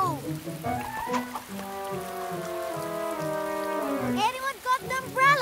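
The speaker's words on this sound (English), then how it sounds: "That's raining a lot now." Steady cartoon rain patters down throughout as a constant wash of hiss, with voices and tuneful sounds running over it for the whole stretch.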